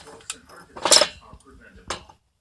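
Rocks that had been boiled are handled, giving a few brief hard clinks and knocks at irregular intervals, close and fairly loud against a quiet room.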